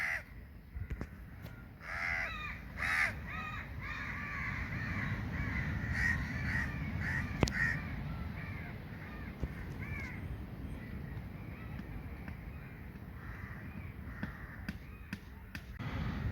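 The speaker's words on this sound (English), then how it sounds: "Lots of crows around here" Crows cawing on a beach in the morning, a cluster of repeated harsh caws at moderate distance over steady surf-like background noise, thinning out later with occasional faint calls and light thumps.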